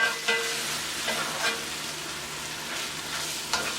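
Turkey meat fries and sizzles in a pan for spinach lasagna, with a steady crackle broken by a few sharp scrapes and clinks of a utensil stirring it.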